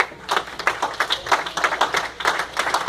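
A church congregation claps and applauds the Lord during a French-language sermon, a steady ragged patter of many hands filling the room.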